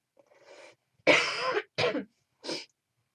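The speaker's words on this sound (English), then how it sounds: "when I talk for long periods of time, I just start coughing" A sick person coughs several times in short, harsh bursts, close up and alone, with brief pauses between them.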